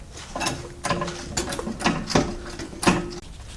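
A jack being worked to raise a car strut assembly into its mount, a series of rhythmic ratcheting clicks and mechanical pumping strokes, about six in a row, close and moderately loud.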